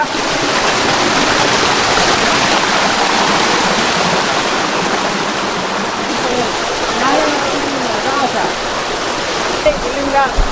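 Waterfall at a hidden hillside spot roars in a constant, dense rush of falling water, loud and unbroken, with faint voices and a few brief chirps near the end.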